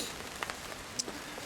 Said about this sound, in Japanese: すっかり雨です